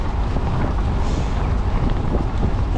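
Strong wind buffeting a cyclist's microphone on a 100-mile ride between Glasgow and Edinburgh, a loud, continuous low roar with no gaps, heavy rumbling gusts, and no talk.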